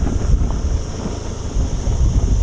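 Strong wind buffets the microphone on a muddy road near a beach in Ibiza, a constant close rumbling roar with no voices.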